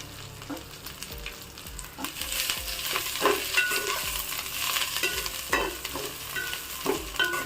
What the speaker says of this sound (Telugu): నాకు కరివేపాకు మొత్తం ఒక బాణీలోనే సరిపోయిందండి వేయించుకోవడానికి